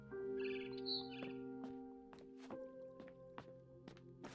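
A barn swallow chirps outside a window in the video game What Remains of Edith Finch, a few high bright chirps near the start over a soft musical bed, followed by scattered light thuds and taps.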